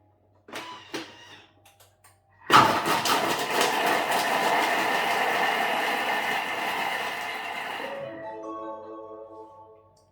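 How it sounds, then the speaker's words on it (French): A Thermomix food processor whirs loudly for about five seconds at speed 5, a steady close motor roar after a few faint clicks, then it winds down into a fading hum. "je vais maintenant mixer tout cela 5 secondes vitesse 5"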